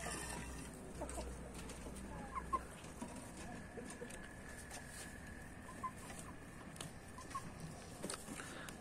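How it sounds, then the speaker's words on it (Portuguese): Chickens cluck softly around a rooster among a flock, faint scattered calls over a quiet outdoor farmyard background with light rustling. "Ele tá beliscando algumas galinhas."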